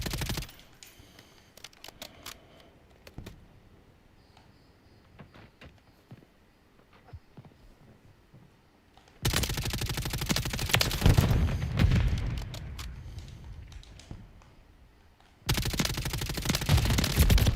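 Automatic gunfire in Call of Duty Modern Warfare III: a few scattered shots early on, then a long loud burst of rapid fire, a pause, and another dense burst at the end.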